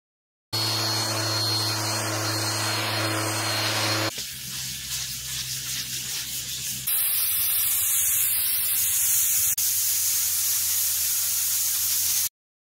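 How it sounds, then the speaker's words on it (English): Spray gun forcing thick, heavy paint onto a carbon fibre rudder, a continuous loud hiss in three steady stretches with a brief softer dip between, no talk. "That's very heavy paint to be spraying through that gun I was using."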